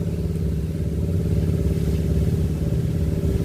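A 2021 walk-behind rotary farm tiller from P. Charoen Phatthana, fitted with a rear soil-shaping attachment, runs at close range. Its mid-pitched engine chugs steadily with rattling, clattering mechanical noise and no let-up or talk.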